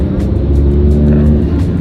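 A car speeds along the road with a loud, close, continuous engine roar that holds steady for the brief moment, without talk.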